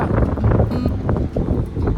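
Gusty wind in Finland buffets the microphone with low, rumbling bursts, rising and falling irregularly throughout.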